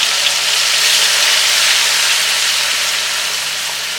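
Onion and green chili paste hits hot oil and melted butter in a pan, giving a loud, continuous bright sizzle and hiss that stays steady throughout with no talking.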